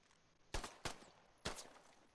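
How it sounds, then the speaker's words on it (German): Four Browning High Power pistol shots ring out in the military shooter game Squad, sharp crisp cracks in two pairs, each with a short decaying tail over a quiet background. "Ansonsten hast du jetzt hier noch als Sekundärbewaffnung hier die Browning High Power, heißt das Gerät."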